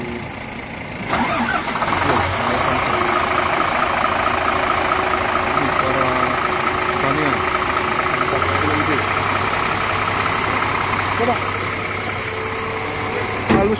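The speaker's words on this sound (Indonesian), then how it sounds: "Oke, jadi kita suara Scania. Ini ada dua Scania ya. Ini ada mesin." A Scania mountain bus from Aceh's Gayo highlands fires up and settles into a steady, loud diesel idle close by, with a rough knocking rumble running throughout and people chatting nearby.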